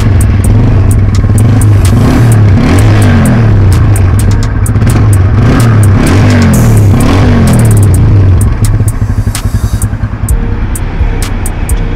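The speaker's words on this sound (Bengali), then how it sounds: "এখন আমরা সরাসরি চলে যাবো যে গাড়ির সাউন্ড কোয়ালিটিটা দেখবো, গাড়ির সাউন্ড কোয়ালিটি দেখবো।" A used TVS Apache RTR 160cc motorcycle engine revs up and down loudly close by in repeated rising and falling surges, with mechanical clatter, then settles toward a rougher idle.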